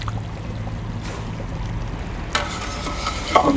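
Chicken kali mirch karahi with cream and extra gravy is stirred in a pan, a continuous wet, sizzling churn with soft scraping and a sharper clink near the end.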